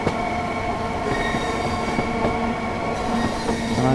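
A train in Train Sim World 5, built for 75 mph running, labours up a steep gradient, giving a steady, loud rail rumble with wheel and carriage noise, faint clicks and a tonal squeal near the end, no talk.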